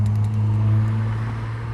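A Ford Mustang passing nearby, heard as a steady low engine hum and tire whir that holds evenly, loud and close, with no voices.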